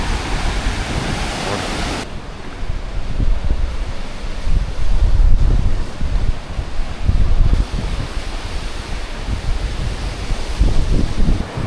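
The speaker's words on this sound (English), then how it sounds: "it's kind of windy out here" Strong wind gusting outdoors near a hotel, a steady loud roar with buffeting rumble across the microphone, continuous throughout with no clear voices.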